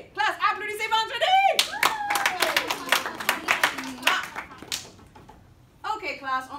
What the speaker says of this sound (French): Classe, applaudissez vendredi!